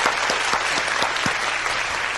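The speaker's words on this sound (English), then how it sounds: "Let's give her a round of applause." Audience applause at a church gathering, a steady wash of many hands clapping with a few sharp individual claps standing out, sustained and fairly loud throughout.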